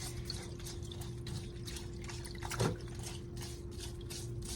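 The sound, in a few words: scrubbing a suction tip underwater with a scrubbing brush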